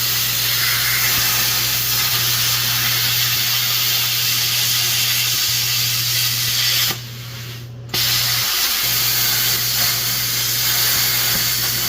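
Plasma cutter cutting metal in a shop at night while working on a Jeep, a loud steady hiss with a low hum, briefly interrupted near the middle before resuming.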